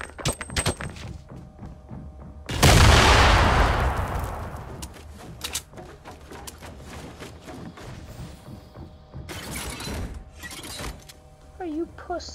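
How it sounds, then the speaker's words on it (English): A loud grenade blast from the Fortnite video game erupts suddenly and decays over a couple of seconds, followed by scattered gunshots and thumps, while someone talks over the game sounds. "Grenade!"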